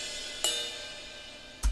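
Unequalized cymbals in a dubstep track: two bright, washy crashes about a second apart, the second joined by a low thump. A faint high shimmer rings between them.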